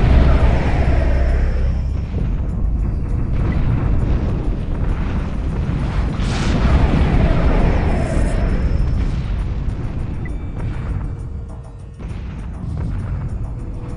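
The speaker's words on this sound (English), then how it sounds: "We're drawing heavy fire." Heavy weapons fire and explosions fill a Homeworld 2 space battle, with loud, continuous booms and rumbling blasts layered densely over one another, steady throughout.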